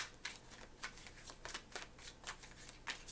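Tarot cards are shuffled in a quick series of crisp riffling bursts, close and soft, with no voices.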